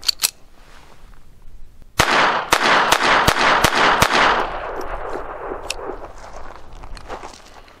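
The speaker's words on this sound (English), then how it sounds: "I'm going to fire 6 rounds, reload it, and 6 more." A gun fires Remington Thunderbolt .22 LR rounds: after a couple of sharp cracks, six loud shots ring out in quick, even succession, each followed by lingering echo, with faint handling noise afterward.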